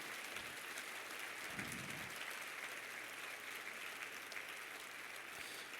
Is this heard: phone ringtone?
no